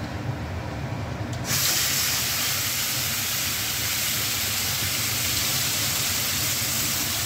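Spice paste hits hot oil in a pan, and a loud, broad sizzle suddenly swells and then holds steady and close.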